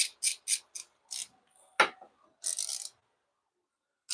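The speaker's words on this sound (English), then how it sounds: "we just snug them down where they go" Bolts are snugged down on a Garmin electronics mount aboard a Skeeter ZX202C bass boat, giving a quick series of short ratcheting clicks, a single sharp metallic tap, then a final burst of ratchet clicks, close and fairly quiet.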